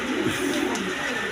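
Big farm-bred pigeons of colored breeds, including Lalgarhra, coo softly in a loft amid a steady murmuring flock, with no voices over them.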